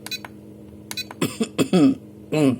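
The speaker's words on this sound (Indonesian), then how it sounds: "Sorry, gue batuk." A few short, harsh coughs in quick succession, close to the mic, with a steady low hum underneath.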